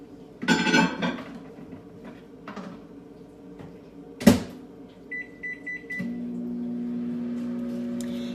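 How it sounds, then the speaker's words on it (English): A microwave oven is shut with a clunk, its keypad beeps, and then it starts up into a steady low hum that runs to the end. "put this in the microwave for, I always start at 2 minutes"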